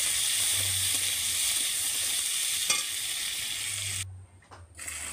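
Chopped onions sizzle in hot oil in a pan with dried chillies and bay leaves, a steady close frying hiss broken by a stirring scrape and a brief dip near the end, with no voices.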